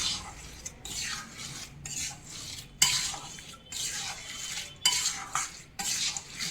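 Jaggery being stirred into warm flour in a pan for katlu paak, with repeated scraping and stirring strokes of a spoon against the metal pan in a steady rhythm, close and fairly loud, with no voices.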